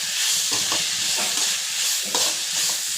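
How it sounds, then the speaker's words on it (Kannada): Chopped onions and capsicum with a pinch of turmeric fry in a pan for chitranna, a steady close sizzle and hiss with a few soft stirring scrapes, no voices. "2 ಫ್ರೈ ಆಗಿದೆ ಇವಾಗ ಈರುಳ್ಳಿ ಮತ್ತು ಕ್ಯಾಪ್ಸಿಕಮ್ಮು."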